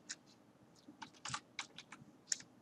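Fingers typing Python code on a computer keyboard, a quick, uneven string of soft, close key clicks with brief pauses, faint and without voices.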